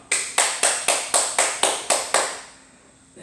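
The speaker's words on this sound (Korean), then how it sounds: "우리 박수로 이사한 걸 축복합니다" A church congregation at a Korean Sunday worship service claps to bless members who moved house. Nine sharp, evenly spaced claps fall in a steady rhythm, then give way to near silence.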